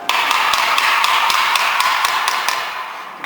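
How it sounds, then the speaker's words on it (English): Light, evenly spaced taps, about a dozen crisp knocks, seat a part during assembly of a Covana OASIS unit after a 3/4 inch wrench is used, heard close and alone. "Now you can slightly tap."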